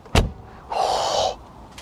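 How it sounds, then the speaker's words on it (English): A Mercedes W123 four-door car door shuts with a single solid thump, followed by a brief mechanical whir, fairly close and clear with no talking. "a good example of that, the door close"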